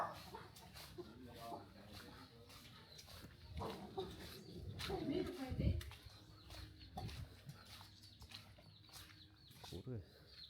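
Dogs bark and chickens cluck around a rural roadside in Vietnam, the animal calls scattered and fairly close amid steady outdoor noise, with people talking over them.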